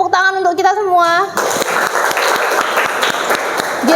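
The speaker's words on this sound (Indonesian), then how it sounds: "tepuk tangan untuk kita semua" A class of students claps together for the group during a mathematics lesson, a lively burst of applause that follows a short sung or chanted voice and then runs steady and close.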